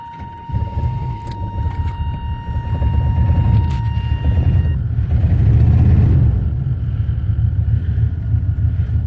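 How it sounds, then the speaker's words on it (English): A 1992 GM truck is started without keys, a short whir and crank, then a deep rumbling engine that swells, peaks and settles into a steady idle, close and loud. "it'll turn the truck over and start it"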